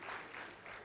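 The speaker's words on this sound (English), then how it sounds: "Please clap for that foundation." Audience clapping at a medical and dental induction ceremony as a scholarship award is announced, a steady wash of many hands, fairly soft and continuous throughout the short moment.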